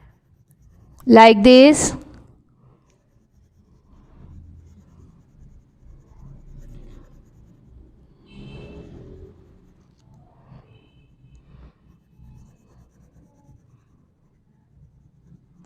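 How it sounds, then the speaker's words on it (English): Blue coloured pencil colouring in objects on paper during a maths class, a soft, steady scratching of pencil strokes that runs on quietly after a brief spoken phrase. "So we colored the fewer objects with blue color pencil."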